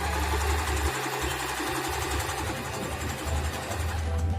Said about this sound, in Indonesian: kita langsung biasakan awal menjahit ditusuk dulu. Seperti ini 1 sampai 2 tusukan ya. Langsung ninjak pedalnya.